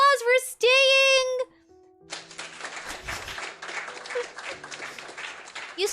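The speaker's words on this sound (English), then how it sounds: "Give yourselves a round of applause for staying!" Canned applause and cheering rise after a short sung or synthesized jingle during a livestreamed baking session, a steady burst of clapping lasting several seconds at moderate level.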